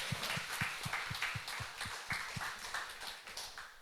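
A church congregation claps together in a steady, rhythmic beat during a Sunday service, the evenly spaced claps repeating at a moderate pace and moderately faint.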